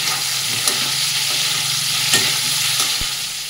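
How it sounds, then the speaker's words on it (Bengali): Paneer pieces frying in spiced masala in a hot pan, a loud continuous sizzle with occasional stirring scrapes and a small clatter near the end. "কিছু পনিরের টুকরোটা আমি ওর মধ্যে দিয়েছি ভাজতে"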